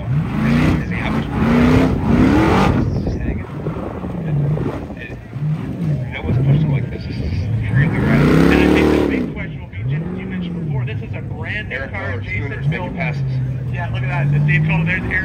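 Ultra 4 off-road race cars roar and rev at King of the Hammers as they weave through desert traffic, with engine pitch rising and falling. Race commentary talks over the engines almost throughout.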